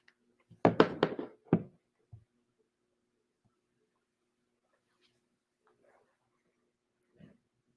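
A dog indoors gives a quick cluster of short, close barks, then one lower sound, followed by near silence with a faint noise at the end.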